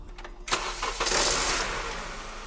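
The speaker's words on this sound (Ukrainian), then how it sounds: "тишу раптово порушив рев двигуна" A car engine cranks and roars to life after a few quiet clicks, swelling into a loud, rough rev that settles into a steady idle, with no voices over it.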